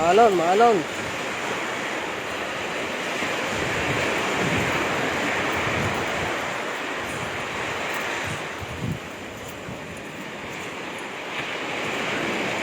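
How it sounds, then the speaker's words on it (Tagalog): Rough surf pounding the shore at Matabungkay Beach in Batangas, a constant loud wash of breaking waves with gusty wind buffeting the microphone and a brief voice near the start. "Maalon ho ngayon, maalon."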